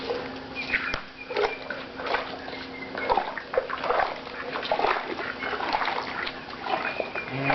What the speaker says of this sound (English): So we're just spinning the hose as we're pushing it and bouncing it back and forth